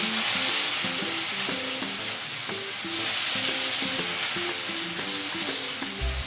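Chopped onion hitting a hot pan of frying chillies, a loud, dense sizzle that stays strong and close throughout, with a steady rush of frying noise.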